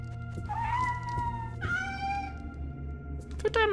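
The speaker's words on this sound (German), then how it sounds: "Oh, eine Miezekatze." A cat in the stealth game Thief: Deadly Shadows meows twice in clear, drawn-out cries over a low background hum, followed by a brief sharper sound at the end.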